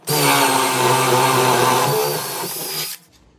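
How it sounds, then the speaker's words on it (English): A power drill whirs loudly and steadily for about three seconds, drilling a hole in a wall, its pitch dropping slightly as it bores, then cuts off abruptly. "You can use this butterfly bit or just a drill bit"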